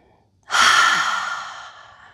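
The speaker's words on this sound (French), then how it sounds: "Inspirez." A single deep breath in a Hatha yoga breathing exercise, one long airy rush starting abruptly and slowly fading over about two seconds, close and fairly loud with no talking.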